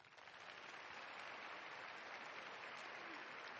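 Audience at a South Carolina faith and family political forum clapping, a steady broadband wash of applause that rises quickly and holds evenly, fairly distant and diffuse, with no talk over it.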